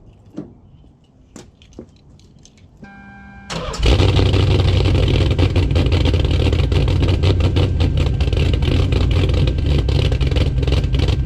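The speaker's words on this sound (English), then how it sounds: "Gotta give you guys a little cold start." Cold start of a Nissan 300ZX Z32 with a coolant leak: a few faint clicks and a brief cranking whine, then the engine catches and settles into a loud, steady close-up idle.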